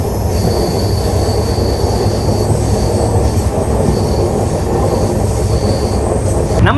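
The Kanniyakumari–Pondicherry Express, train 16862, rounds a sharp curve, heard from on board as a loud continuous rumble of wheels on rails with sustained metallic squealing and no voices.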